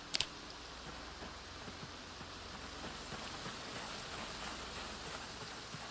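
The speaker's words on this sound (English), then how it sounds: "It is raining." Rain in the zombie survival game Project Zomboid falls as a steady, soft, even patter with fine ticking drops, heard alone after a brief sharp click at the start.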